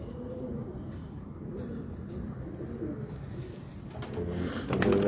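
Low cooing of pigeons murmurs steadily in the background, muffled and continuous, with a brief brighter fluttering near the end.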